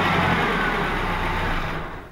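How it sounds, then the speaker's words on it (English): Chevy S10 pickup engine running steadily up close, a dense broadband mechanical roar with a constant low drone; any knock or valve tap is buried in the continuous engine noise, which eases slightly at the end. "But it's knocking and the valve is tapping."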